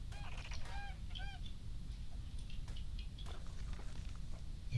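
Dodo birds in the video game Ark Survival Evolved: a series of quick honking, goose-like calls over a steady low rumble of ambient game noise and wind.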